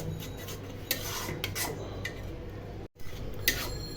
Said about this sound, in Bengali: চলছে মশলা কষানো